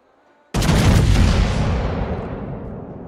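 Secondary guns of the Italian premium battleship Giuseppe Verdi in a video game fire in one sudden, loud blast after a brief hush, leaving a long rolling rumble that slowly fades.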